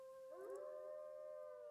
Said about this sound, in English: There's wolves everywhere.